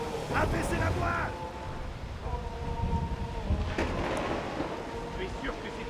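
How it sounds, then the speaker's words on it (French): Thunder rumbles through a rainy storm at sea in Assassin's Creed Odyssey, a low rolling roar under steady rain and wind, while voices talk over it throughout. "Il y a du tonnerre."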